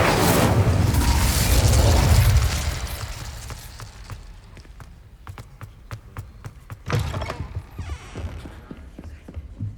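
An Incendio fire spell is cast in Hogwarts Legacy, opening with a loud roaring whoosh of flame that fades after a couple of seconds, followed by scattered sharp clicks and another brief burst, with no voices.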